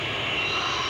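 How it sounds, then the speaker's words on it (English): Airplane engines running before takeoff, a loud, steady, close droning roar with a constant hum and no talk over it. "that noise? It's the engines."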